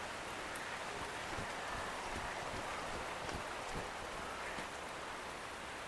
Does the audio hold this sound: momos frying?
no